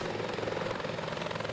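A helicopter in the Arma 2 video game is set down on a rooftop, its rotor throbbing in a loud, continuous, rhythmic thrum that stays steady for the whole stretch with no talking.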